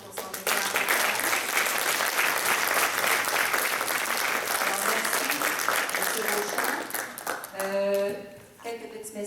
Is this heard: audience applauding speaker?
yes